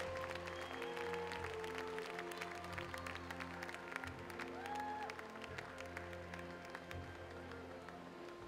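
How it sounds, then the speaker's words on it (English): Spectators applauding the top three men's 200m butterfly finishers, led by Michael Phelps, at a swimming awards ceremony; steady, fairly distant clapping across a large venue with an underlying hum and reverberant hall ambience. "How about a round of applause for your top three finishers here in the men's butterfly"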